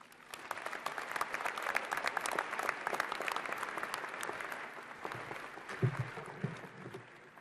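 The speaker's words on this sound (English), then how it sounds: "Let's give Greg another round of applause for those wonderful words and thoughts." A graduation audience at a university commencement breaks into sustained applause, many hands clapping steadily throughout, with a few faint voices near the end.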